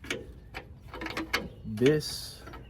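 A wrench loosens a bottom bolt during a 3-inch Ironman 4x4 lift install on a fifth-generation Toyota 4Runner, a few quiet metallic ratcheting clicks with a brief voice sound partway through.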